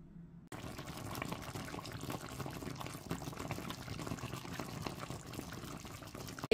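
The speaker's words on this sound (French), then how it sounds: "Je vais mettre le feu en marche et laisser le poulet gentiment pré-cuire." Chicken pieces pre-cooking in a little water over the heat make a continuous bubbling, simmering sound that starts abruptly after a brief quiet moment and stays at a moderate, even level throughout, with no talking.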